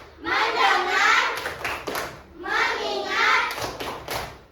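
Primary school pupils in a grade 4 classroom in Samarinda chant together and clap in rhythm, with two spells of voices each followed by a pair of crisp group claps.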